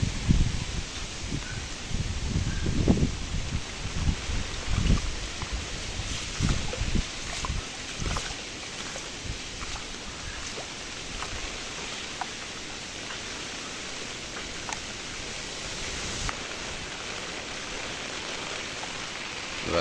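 Floodwater from cyclone rain flows along a flooded village road, a soft steady rushing wash with a few louder splashes early on, quiet and continuous without voices.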